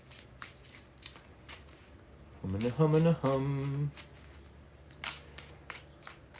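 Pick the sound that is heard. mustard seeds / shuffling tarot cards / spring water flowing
shuffling tarot cards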